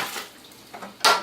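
Sanitizing water is stirred in a metal stock pot for home-brewing, giving a few soft sloshes followed by a brief sharp metallic clink at the end.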